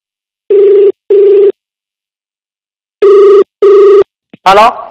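A telephone rings for a call in a TV show studio, two loud double-ring bursts separated by a pause, then a short voice starting at the end.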